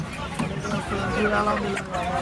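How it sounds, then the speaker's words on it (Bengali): Chickens cluck and squawk close by amid a busy bird market in Fatullah, Bangladesh, with people talking underneath the birds' calls. "অনেক মুরগি নিয়ে আসছে, বাচ্চা মুরগি বড় মুরগি নিয়ে আসছে।"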